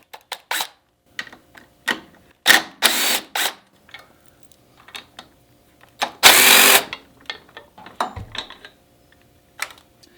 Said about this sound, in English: Next, we'll remove both blinker assemblies with a T40 Torx.